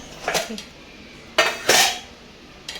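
Metal tea pots and kitchen vessels being handled, giving a few sharp clanks and scrapes in separate clusters, close and fairly loud against a quiet room.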